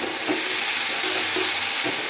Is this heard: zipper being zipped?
no